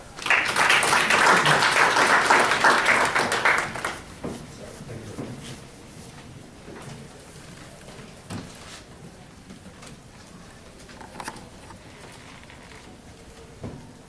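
An audience at a Carnegie Endowment speaking event applauds for about four seconds to welcome Pakistan's finance minister, Mohammed Ishaq Dar, then the clapping fades into room noise with scattered thumps and shuffling.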